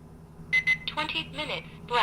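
A talking countdown timer by Oregon Scientific or Reizen plays its ten-minute voice announcement, two short bright chime tones and then a close, clipped synthetic voice reading out the remaining minutes, with no other sound around it.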